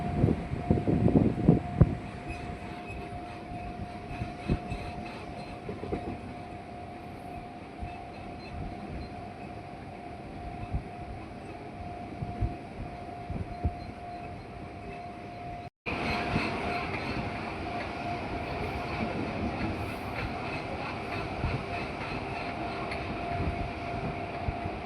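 A Howrah to Amta local train rolls along the line, a steady rumbling drone of the carriage with faint rattles. A brief dropout comes partway through, then the running noise resumes slightly louder.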